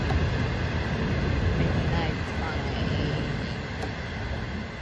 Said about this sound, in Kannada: Midnight train.